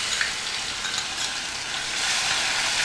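Ginger-garlic paste sizzles steadily in a hot pan with oil for a rajma masala curry, a continuous broadband frying hiss that swells slightly louder toward the end, with no voices.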